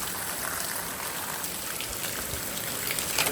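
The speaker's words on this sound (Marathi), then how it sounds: "पाऊस नुसता चालूच आहे सध्या चार दिवसापासून रोज पाऊस पडतोय" Steady rain pours down in the Konkan, a dense even hiss of drops pattering on surfaces, with no voices.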